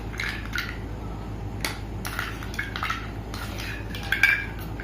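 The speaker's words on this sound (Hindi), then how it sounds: "इसे कंटिन्यूअस स्टर करना है, ताकि ये घी जो है वो जम जाए" Ghee is stirred continuously with ice cubes in a bowl, giving light clinking and scraping of ice and utensil against the bowl in quick, irregular taps over a low background hum.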